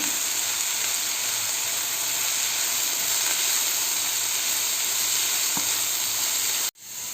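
Chopped cabbage with turmeric sizzles steadily in a hot pan, a continuous even frying hiss with faint crackles throughout and no voices.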